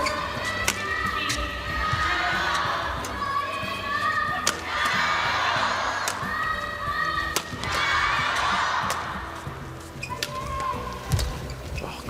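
Badminton rally at the BWF World Tour Finals 2024 in women's doubles, sharp repeated racket hits on the shuttlecock ringing through a large arena with a busy crowd murmuring and cheering, while a commentator talks.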